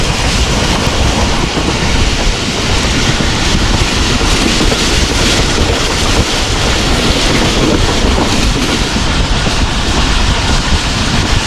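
The Jaffar Express passes through Ahmedabad station at about 105 km/h on a Lahore to Rawalpindi run through Punjab, a loud, steady, unbroken roar of wheels and rushing air with faint rapid clatter and no talk.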